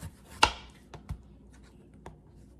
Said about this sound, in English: One russet potato should be enough, but I'll know by the time that we're done chopping it.